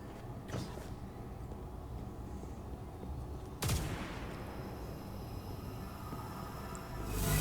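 A few loud gunshots fired at glowing red panels in Destiny 2, each a sharp blast with a decaying tail, spaced several seconds apart over a steady low game ambience.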